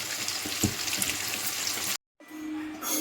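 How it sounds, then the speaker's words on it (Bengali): Chicken pieces frying in hot oil in a wok, a steady close-up sizzle with crackling pops that cuts out briefly, then resumes as a softer hiss. "এবার আমি একটা একটা করে চিকেন এই কড়াইয়ের তেলের মধ্যে দেব দিয়ে ভেজে নেব"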